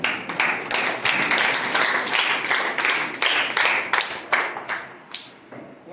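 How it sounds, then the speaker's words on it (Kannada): A room of students breaks into group clapping for several seconds, a dense patter of overlapping hand claps with louder surges that thins out and fades near the end, with no talking. "ಚಪ್ಪಾಳೆ."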